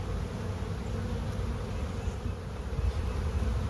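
Honeybees buzz steadily around a hive split, a dense, close, continuous drone with no pauses and no talk.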